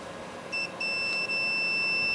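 A multimeter sounds its continuity beep while testing a hose-and-wand connector, a high steady tone that starts with two short chirps and then holds continuously, close and clear with no voices.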